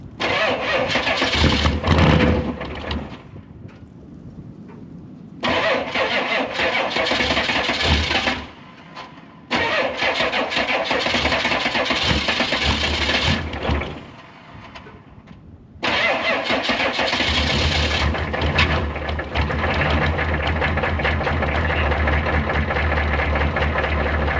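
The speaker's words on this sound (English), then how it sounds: "I'm gonna go set this up so you can hear the exhaust" A Chevrolet Suburban's engine cranks and fires several times, cutting out between attempts before catching, then settles into a loud, rough idle with a deep exhaust rumble recorded up close.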